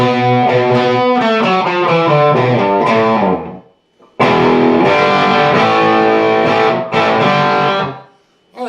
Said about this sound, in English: So the turnaround will sound like this.